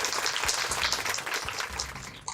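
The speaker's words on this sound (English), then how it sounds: "A big round of applause to both the teams who did very, very well" An audience applauds the quiz teams, a dense, steady patter of many hands clapping at moderate volume, continuous through the short stretch with no speech over it.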